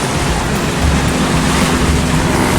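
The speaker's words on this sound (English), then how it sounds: "some of these waves are 2 meters" Rough sea with waves up to about two meters washing around a sailboat, a loud continuous rush of water with heavy wind noise and a low rumble, steady throughout.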